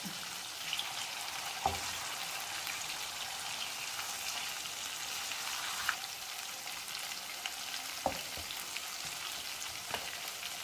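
Pepper-coated fish pieces sizzle steadily in a frying pan, a constant crackling hiss with a few sharper pops and spatters scattered through it, heard alone without talk.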